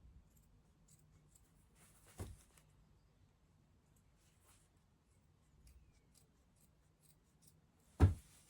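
Scissors snipping around a fabric appliqué heart patch on jeans: quiet, sparse cuts with two sharper snips, one early and one near the end, in an otherwise hushed room.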